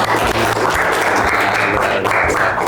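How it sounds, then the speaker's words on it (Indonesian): Audience applause at an Islamic religious studies lesson, a steady dense clapping wash that fills the whole moment loudly without a break, with a low hum underneath and no talking over it. "tepuk tangan."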